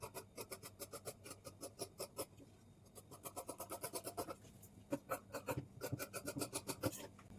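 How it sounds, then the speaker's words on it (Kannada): Scissors cut the outlines of blouse fabric in steady rhythmic snips that come in quick bursts. The cutting is close and clear, with no talk over it. "ಈಗ ಇದನ್ನು ನಾವು ಔಟ್ಲೈನ್ಸ್ ಮಾತ್ರ ಕಟ್ ಮಾಡ್ಕೊಳ್ಬೇಕು."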